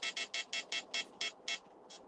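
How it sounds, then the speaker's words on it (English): Electronic beeping sounds in about nine evenly spaced, sharp, high-pitched pulses roughly four per second, fairly close, the last one fainter, over a quiet background. "Sorry about the beeping"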